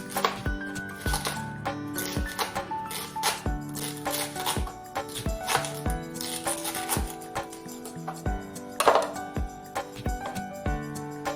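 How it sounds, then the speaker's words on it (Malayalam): Raw banana peel chopped finely with a knife, giving a quick, steady run of light tapping strokes on a board, heard under soft background music. "ഇനി ഇത് വളരെ ചെറുതായിട്ട് അരിഞ്ഞെടുക്കാം"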